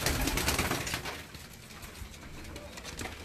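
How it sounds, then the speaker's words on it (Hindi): Pairs of pigeons on a rooftop in Multan, soft cooing mixed with rustling and some wing movement, close by, with faint background noise and no clear talk. "ये जोड़े वाले कबूतर है ना"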